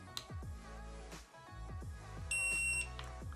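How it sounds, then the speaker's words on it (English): A short, clear electronic beep from a eufy Security C220 smart door lock rings out about two-thirds of the way through, sounding once over a busy background of music-like tones. "press the set button that's on the front until you guys hear a beep"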